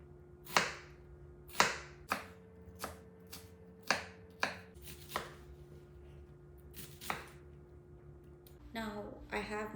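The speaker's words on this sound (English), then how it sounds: "some of it I'm gonna chop them into fine pieces so that I can use it in the" Onions being chopped fine with a knife on a board: about ten sharp, distinct knife strikes at an uneven pace, close by. A voice is briefly heard near the end.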